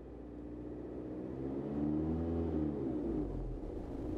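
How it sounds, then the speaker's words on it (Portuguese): A car engine revs up as the accelerator pedal is pressed, its deep hum rising in pitch and swelling, then easing back, steady and moderately close with no voices. "Agora estou pressionando o pedal do acelerador para ver os dados atuais."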